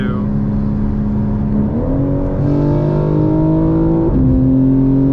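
A 2024 BMW M4 Competition xDrive engine revs up through rising pitch, briefly drops as it shifts, then climbs again, loud and close with a raspy exhaust.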